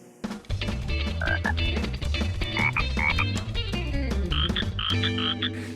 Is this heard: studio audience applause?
no